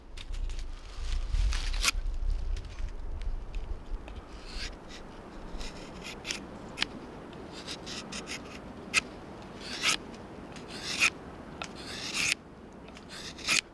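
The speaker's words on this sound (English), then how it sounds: "I'll just sharpen this a little." A NativeSurvival knife is honed with short, scattered rasping strokes, close and fairly quiet, the scrapes arriving irregularly over a soft background hiss.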